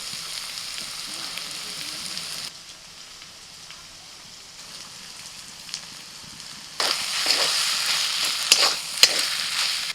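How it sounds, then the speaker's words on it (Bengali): Spice masala cooked with boiled rohu fish and potato in a pan for fish fingers sizzles steadily, softening for a few seconds, then swelling loud again with sharp stirring scrapes and crackles. "মশলাটা একটু নাড়াচাড়া করে দিয়ে দিচ্ছি"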